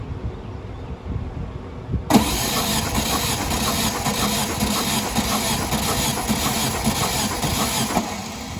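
A VW 1800 engine cranks on a weak battery during a compression check, a loud, steady, grinding turnover that starts abruptly after a quiet moment and runs for about six seconds without catching.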